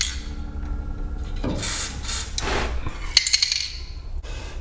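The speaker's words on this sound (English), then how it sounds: "Spray all around it." Aerosol lubricant sprayed around garage door hinges and cable in several broadband hissing bursts of varying length, close by, with a few light metallic clicks and no talking.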